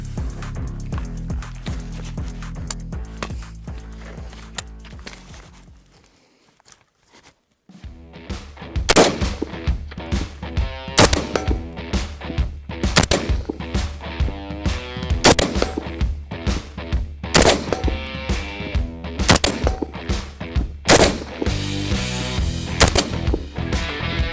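Haenel MK 556 assault rifle shots fire in quick bursts and single cracks, loud and close, after a brief quiet pause; sharp repeated reports with ringing echoes.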